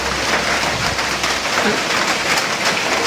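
Heavy rain pours down outside a flooded village home, a dense, even hiss of falling water that stays loud and unbroken throughout.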